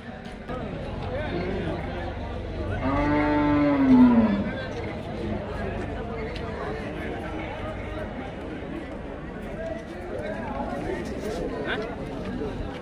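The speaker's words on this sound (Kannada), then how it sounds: "ಇವರೆಲ್ಲ ಹಸುಗಳು ಬಂದಾವ ನೋಡ್ರಿ" Cows and buffaloes at a busy Tuesday cattle market in Kalghatgi, Karnataka: one long, deep moo rises clearly, then falls away over a steady crowd murmur, with people chatting nearby.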